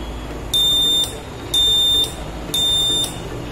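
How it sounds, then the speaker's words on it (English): An electronic buzzer alarm on a tree-theft detection system sounds three times, each shrill half-second tone evenly spaced and loud, over a low background hum. "So it will hoot the buzzer like this."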